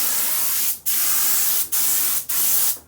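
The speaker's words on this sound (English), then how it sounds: "I'm spraying at about 70 PSI." A paint spray gun fan-sprays at about 70 PSI, a steady hissing spray in three long bursts, each cut off by a short pause, close and loud with no talk.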